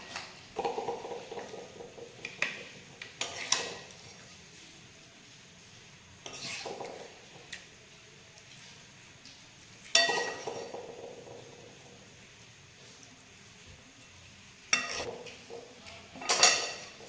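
Dishes and cutlery clink and scrape as a plate of chicken and tawa roti with raw onion is arranged, several sharp clatters spaced apart over a quiet room, no voices.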